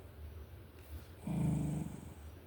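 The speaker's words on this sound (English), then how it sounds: "he does that growling thing" A dog gives a low rumbling growl lasting about a second, close and fairly loud after a quiet start, with faint background hiss.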